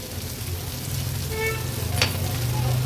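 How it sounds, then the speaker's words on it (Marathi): Bitter gourd sautéing in a spice masala in a pan for an Agri Koli-style Maharashtrian thali, giving a steady, close sizzle with faint stirring scrapes and a short sharp clink near the end. "व्यवस्थित ही कारली परतून घेते मी."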